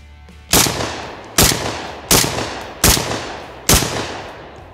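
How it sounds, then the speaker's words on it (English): ATI Bulldog shotgun firing Remington game load shells at a range, five loud close blasts spaced roughly evenly, each ringing off briefly before the next. "I'm just gonna shoot 5 rounds of each ammo that I brought today"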